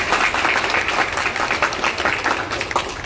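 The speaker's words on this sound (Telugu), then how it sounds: "ఒకసారి big round of applause Mangamma గారికి అండ్ ఫ్యామిలీకి" An audience at a Vestige car handover event in Vikarabad (Kulkacharla) breaks into a steady, dense round of applause, loud and continuous throughout.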